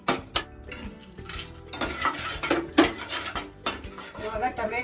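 Mustard seeds and dry red chillies spluttering in hot oil, with loud metal spoon and pan clatter and stirring scrapes over a faint crackle, close by and uneven.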